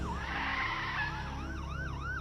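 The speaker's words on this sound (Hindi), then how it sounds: "पीछे से पुलिस की गाड़ी सायरन बजाते हुए आती है" A police siren wails in rising and falling sweeps over a car's engine rumble, growing clear and fairly close.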